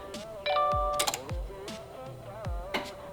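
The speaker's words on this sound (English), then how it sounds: "I did hear all of our relays click on back here" Subaru STI fuel pump relays clicking on, a handful of sharp separate clicks scattered over a few seconds, close and distinct amid faint electronic tones.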